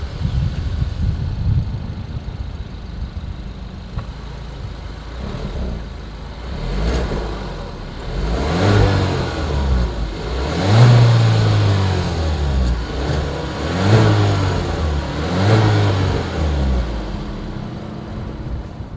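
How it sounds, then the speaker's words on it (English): A 2021 Kia Seltos exhaust revs repeatedly from a steady idle, with several rising, falling throttle blips over a low engine drone, close and loud. "As always, here is that exhaust clip."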